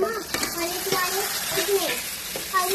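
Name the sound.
tomatoes sizzling in hot ghee in a pan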